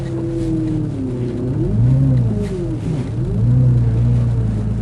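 A Porsche 996 engine hums and rumbles steadily from inside the car, its pitch rising and falling as it speeds up and eases off.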